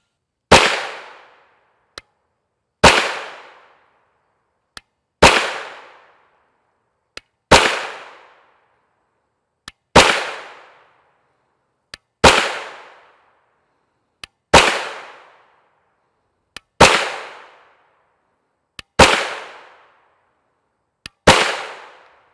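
Ten evenly spaced, loud gunshots from a CZ Scorpion Evo 3 S1 SBR pistol-caliber carbine with a 7.72-inch barrel, firing 9mm 124 grain FMJ rounds, each sharp crack followed by a short decaying echo, with no talking.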